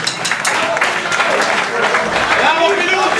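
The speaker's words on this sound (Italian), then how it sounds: "voglio un grande applauso anche al bar di Fea" Audience applause at a blues concert in Bergamo, a dense close burst of clapping under a loud voice speaking over it.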